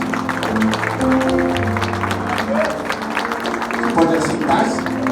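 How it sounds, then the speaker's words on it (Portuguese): A church congregation applauds during a worship service, steady clapping from many people in a room with voices speaking over it. "Você pode aplaudir o Senhor Jesus"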